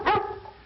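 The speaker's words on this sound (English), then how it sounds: "I want big barks." A big dog gives one loud, deep bark up close, its tail fading quickly.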